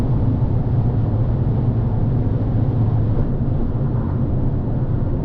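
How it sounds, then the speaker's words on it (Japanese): Steady road noise fills the cabin of a 2019 Fiat 500 120th Tuxedo cruising at 100 km/h with the engine at about 3000 rpm, a constant low rumble with almost no engine sound. "3000回転ほど回っていますが、エンジンノイズがほぼ入ってこず、ロードノイズだけなのがすごいです。"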